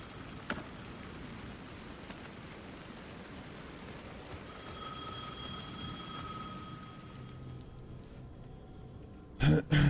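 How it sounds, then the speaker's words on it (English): A telephone rings in the Alan Wake 2 video game: steady electronic ringing tones through the middle of the clip over a hissing, rain-like ambience, ending with a short loud burst. "The phone was ringing again."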